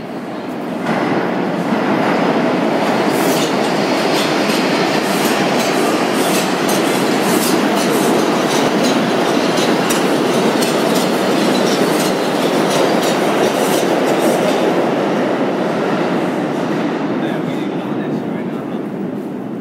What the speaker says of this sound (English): Here comes a fucking metro.